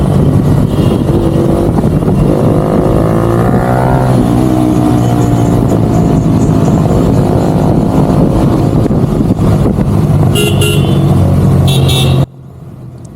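A motorcycle engine, MT or Hero Xtreme, revs up during a city ride. A loud, close engine drone rises and falls in pitch, then cuts off abruptly at the end.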